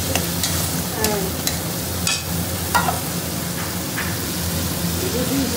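Crab with garlic, ginger, tomato and ground spices sizzles loudly in a pan, with a dense, close frying hiss and periodic scraping stirs throughout.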